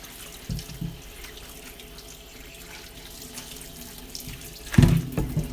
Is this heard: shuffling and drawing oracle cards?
no